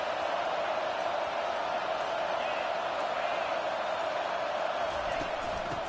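A dense stadium crowd roars for a third-down play in a College Football 25 video game matchup against Michigan, a steady, loud wall of cheering that holds unbroken for the full six seconds.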